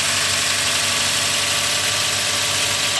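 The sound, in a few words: Lexus GX470 2UZ-FE engine running after broken timing belt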